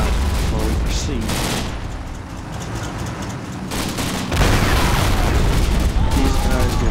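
Gunfire crackles in the Combat Mission: Red Thunder wargame as troops come under fire while withdrawing, with bursts of shots and booms under a continuous battle din, and someone talks over it.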